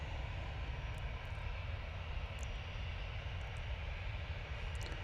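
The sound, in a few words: EasyJet Airbus A319 landing, arriving from Malaga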